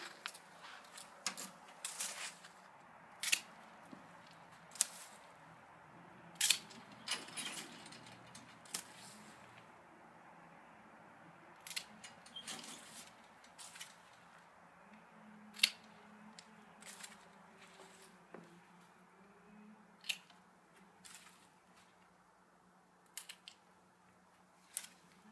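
Pruning shears snip through raspberry canes along a row, crisp cuts repeating irregularly every second or two, close and fairly quiet against faint outdoor background.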